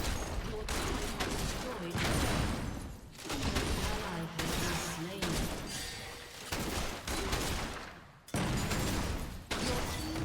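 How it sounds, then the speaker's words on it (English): Graves' shotgun blasting repeatedly in League of Legends, dense booming shots in rapid bursts mixed with game effects and loud talk, briefly dropping out near the end before firing resumes. "The shotgun takes over now"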